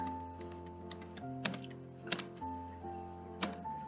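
Keys clatter on a computer keyboard in quick, irregular taps, with a few sharper, louder strokes like the enter key. The sound is close but quiet over a steady electronic hum.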